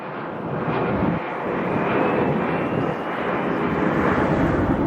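A US Coast Guard HC-130J turboprop aircraft takes off from Aberdeen Airport, its engines producing a loud, steady broadband roar that holds throughout with slight swells, no talking.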